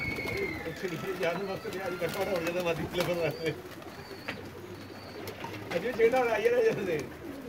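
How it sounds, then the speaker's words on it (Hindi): Soft, low coos from a Sherazi pigeon repeat over a few seconds, mixed with someone speaking nearby and some rustling. "ले जी, कबूतर आ गया।"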